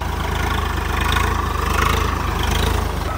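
A Swaraj 855 FE tractor pulling a 9-tine cultivator across a field, its engine giving a steady, loud, throbbing drone throughout without a break.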